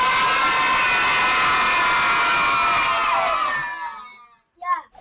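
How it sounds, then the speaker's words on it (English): A crowd of children cheers and shouts together, loud and sustained, then fades out, followed by a short burst of an adult voice. "Give us a wave and a cheer if you spotted those elephants."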